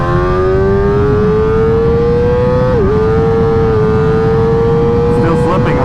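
A derestricted Kawasaki ZX-4RR sport bike screams at full power, its high engine whine climbing steadily with a brief dip at a gear change, loud and close over heavy wind roar.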